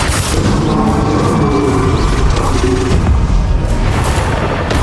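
Bombarda spell blasts in Hogwarts Legacy make a dense, loud barrage of booming explosions and crackling bursts that overlap continuously with no pause.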